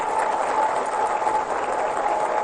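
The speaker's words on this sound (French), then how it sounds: "Je vous prie d'applaudir très très fort." An audience at a speech applauds, giving steady, dense clapping that runs throughout as an even wash of sound without speech.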